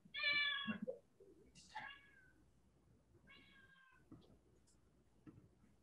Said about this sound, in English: Kitty cats.